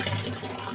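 Water running into drums being filled to water plants, a brief steady rushing pour heard close and continuous with no voices.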